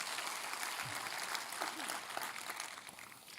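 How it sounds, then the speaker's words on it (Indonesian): Applause from a church congregation for the praise and worship team, a steady mid-distance wash of clapping over about three seconds with faint voices mixed in. "Boleh tepuk tangannya di extend buat tim praise and worship kita."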